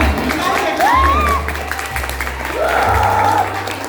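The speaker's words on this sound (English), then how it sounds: "Continue clapping, come on." An audience claps at a ramp walk during a Ganesh festival event. The applause is moderate and mixed with crowd noise and voices, and whistles or calls rise over it.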